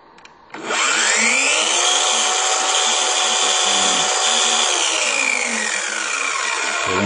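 An 18-volt circular saw spins up after a brief quiet moment and then runs loud and steady, a sustained high-pitched whine that holds for several seconds with no talking.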